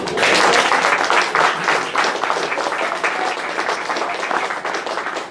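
A church congregation applauds the Lord at a sermon, a dense, sustained wash of many hands clapping at steady loudness through the whole stretch, with no clear voices above it.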